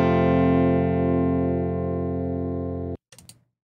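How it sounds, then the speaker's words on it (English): A Line 6 Variax modelling guitar emulating a 1960s Telecaster rings out a single sustained electric chord that holds bright and full for about three seconds before being cut off, followed by a brief faint clatter. "Now the Variax that I was using is actually emulating a Telecaster from the 60s"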